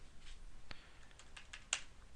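Typing on a computer keyboard, a handful of soft, close key taps spread unevenly over about two seconds, with one sharper keystroke near the end, heard alone in a quiet room.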